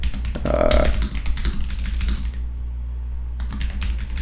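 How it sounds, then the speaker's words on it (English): Someone types on a computer keyboard while entering an article into a website's edit screen. Rapid, close clicking keystrokes run in bursts, with a short pause before the typing resumes. "you could type it all out"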